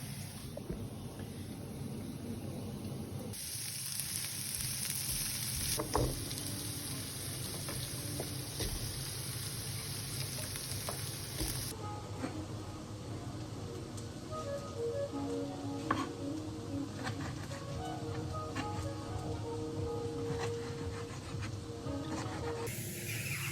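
A steady sizzle of onion and carrots frying in hot oil, constant crackling hiss with occasional stirring clinks and shifts, close by and without talk.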